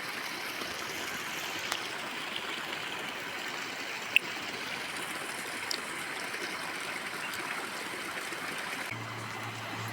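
A steady, continuous wash of stream water flows beside a rough path leading to a waterfall, even and moderately close, with a few faint clicks and no voices.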